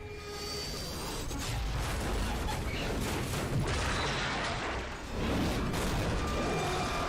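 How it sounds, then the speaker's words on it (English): A video game explosion in Back 4 Blood booms as a dense, rumbling wash of crashing and crackling debris that rolls on for several seconds, with a second surge near the end. "Back for Blood has like an explosion though"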